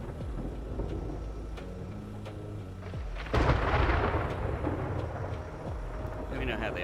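Thunder rolls through a storm in the survival game 7 Days to Die, a loud rumbling crack bursting in partway through and then sustained over game music, with no talk.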